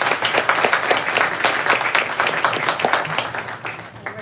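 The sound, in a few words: audience applause welcoming the translator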